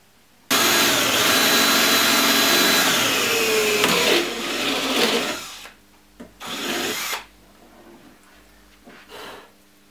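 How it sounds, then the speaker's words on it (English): A power drill boring holes into a plastic motorcycle fairing on a Yamaha R, a loud sustained whine for about four seconds, then shorter bursts that start and stop, close up with no talking. "So to mount it, you do need to drill 4 holes."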